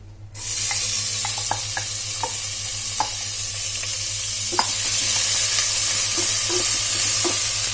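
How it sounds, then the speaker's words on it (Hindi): Two finely chopped onions fry in hot oil for a Sindhi-style dal, giving a steady close sizzle with a few scattered pops and light stirring clicks throughout, no talking. "ये तेल डाला, बारीक कटी हुई 2 प्याज है, ये मैंने पहले से काट के रखी हुई है, को डाल देंगे।"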